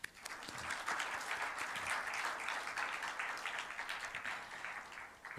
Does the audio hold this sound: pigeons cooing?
no